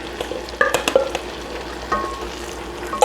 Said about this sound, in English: you want to give this a gentle stir so we don't break the beans all up